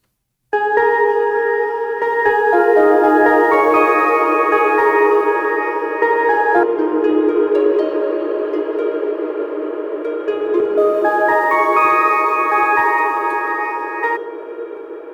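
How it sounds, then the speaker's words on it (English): A synthesized plucked harp melody from Sound Yeti's Revelation Fusion Harp rings out in cascading notes, drenched in long, washed-out reverb that blurs into a bell-like shimmer. "that's a really, really long reverb there happening, really washed out sound, sort of like a bell lead sound"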